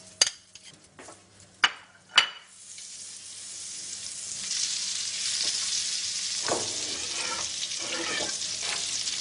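Butter sizzling in a pan after beef has been seared for beef Wellington, starting with a few sharp clinks of utensils, then a soft, steady sizzle that swells and holds, fairly quiet and close.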